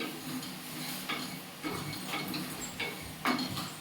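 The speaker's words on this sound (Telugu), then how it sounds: "సో అందులో ఇవి వేగుతున్నాయి లో ఫ్లేమ్లో కదా, కొంచెం వేగుతున్నాయి" Mint pickle ingredients frying gently in oil over a low flame, a steady faint sizzle broken by occasional stirring scrapes and clinks of a spoon against the pan.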